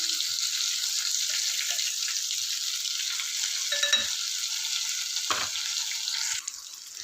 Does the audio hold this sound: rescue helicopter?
no